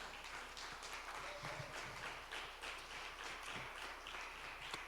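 Church congregation clapping for the Lord during a sermon, a steady wash of applause at moderate distance, fairly faint, running throughout with a few scattered voices underneath.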